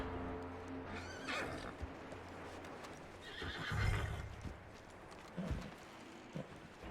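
A horse in the video game Red Dead Redemption 2 whinnies and snorts amid hoof clip-clop and shuffling, with a louder neigh near the middle and scattered thuds around it.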